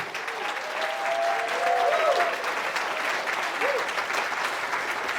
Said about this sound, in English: If you serve in the military, will you stand up so we can applaud you?